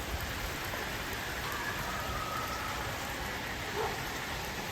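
Steady rain falls in a soft, even hiss, fairly faint and distant, continuing unbroken for the whole stretch without any voices.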